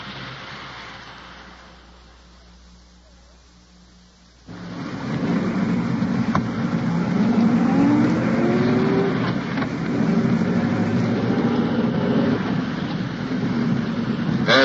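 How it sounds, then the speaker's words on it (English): An undercover police car carrying detectives at night in 1954 is heard as a low engine rumble and road noise, quiet at first, then swelling suddenly into a steady, loud drone. "At present, I'm riding in an undercover car with Detective Sergeant Ward and Detective Walter."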